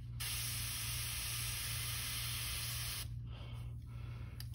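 A spray gun hisses loudly and continuously while painting a custom crankbait fishing lure, with a brief break and a few short pulses near the end.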